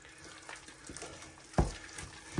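A wooden spatula works milk into hot mashed potatoes with soft, wet scraping and squelching, a few sharper knocks against the pot near the end, close and fairly quiet with no talk.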